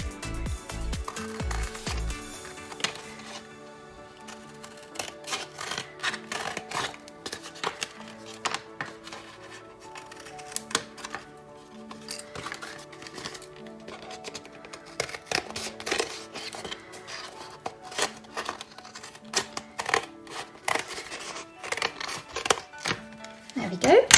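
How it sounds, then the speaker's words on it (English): Scissors or a blade cutting away excess card in a craft project, a run of close, irregular snips and rustles of paper with handling noise throughout. "I'm just going to get rid of some of this extra card that I don't need, make it easier to cut."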